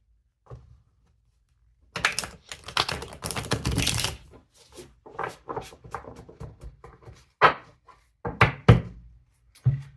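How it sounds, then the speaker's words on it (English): Brisk shuffling of tarot cards, a dense burst of riffling and slaps, then scattered clicks and taps as cards are set down one by one, close and fairly loud. "see me shuffle and place the cards"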